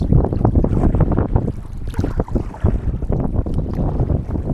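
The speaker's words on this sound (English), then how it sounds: "Some of the waves are quite big" Wind buffeting and waves slapping against a canoe on Hullvann Lake in Norway on a windy autumn day, loud continuous gusty roar with splashing close to the microphone.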